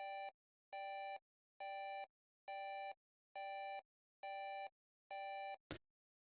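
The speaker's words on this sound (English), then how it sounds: "which is my like alarm sound" Alarm-like sound in an electronic music track: seven evenly spaced, identical buzzing beeps pulse at a steady rhythm, clean and isolated, ending in a brief sharp hit.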